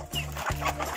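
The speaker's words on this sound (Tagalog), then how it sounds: "Pre-raised chicken, native manok." Native chickens clucking in a rural backyard, several birds close by with steady overlapping clucks and short calls, no talking.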